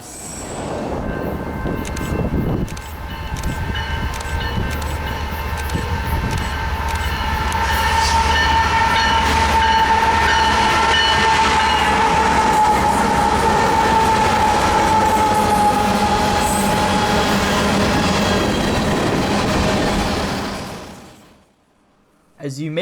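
A Union Pacific freight manifest train rolls past between Austin and Round Rock, a loud, steady rumble of wheels and cars that builds, holds for most of the pass, then cuts off abruptly at the end.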